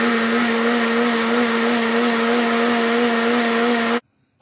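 A kitchen blender grinds cooked curry ingredients into a paste with a loud, steady whirring drone that runs unbroken, then cuts off abruptly near the end.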